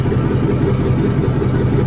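A Dodge Hellcat, billed as the loudest of its kind, idles with a loud, steady, deep rumble that holds close and unbroken throughout, with no voices.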